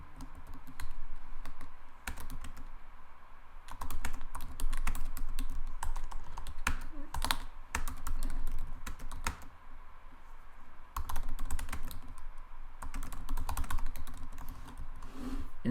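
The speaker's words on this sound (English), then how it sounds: "I would type my question" Typing on a computer keyboard: fast, close clicky keystrokes come in bursts separated by short pauses, alone without talk.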